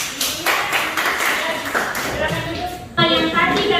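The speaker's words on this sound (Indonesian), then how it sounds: "Oke, kita beri tepuk tangan buat kita semua." A classroom of students claps together in a steady burst of applause, fairly close, with a surge of louder clapping near the end.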